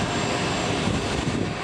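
An Airbus Helicopters EC145 T2, a mid-range civilian helicopter in the 4-ton class, holds a steady, moderately loud engine and rotor drone throughout.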